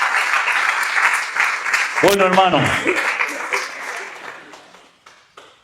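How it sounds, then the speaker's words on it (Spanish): A church congregation applauds God during a Spanish-language sermon, a dense wash of clapping heard throughout that fades toward the end, with someone speaking briefly over it. "Fuertes aplausos a nuestro Dios."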